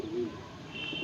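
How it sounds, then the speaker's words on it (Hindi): A yellow-eyed Punjabi female pigeon from Moradabad gives a short, close coo at the start, followed by a faint higher chirp, with no talking. "मुरादाबाद की कबूतरी आपकी आंखों के सामने, पंजाबन कबूतरी दोस्तों"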